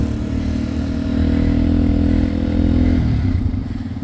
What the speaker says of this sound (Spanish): Andamos estrenando moto.